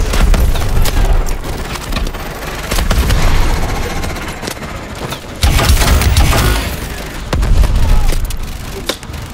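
Explosions and gunfire in the video game Call of Duty: Advanced Warfare, heavy booms and rattling bursts filling the scene loudly with a surging low rumble, including a big blast midway, under faint voices.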